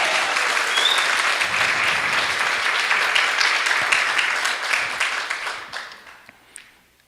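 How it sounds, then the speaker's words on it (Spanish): A church congregation gives loud, dense applause that holds steady for several seconds before thinning out and fading to silence near the end. "Denle un aplauso al Señor."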